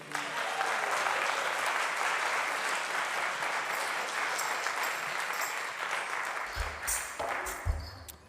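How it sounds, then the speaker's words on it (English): Sustained applause from a church congregation at a Sunday service, thanking the sound and live stream crew, loud and dense throughout with a few sharper hits near the end. "Can we give a round of applause for our sound and live stream crew?"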